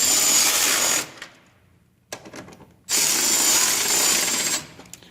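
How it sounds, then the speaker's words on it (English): An electric ratchet whirs on automotive fasteners during light bulb and wiper service, two loud sustained motor runs close by, separated by a pause with faint clicks and handling noise. "I'm just going to take the electric ratchet and kind of run the slack out of them a little bit"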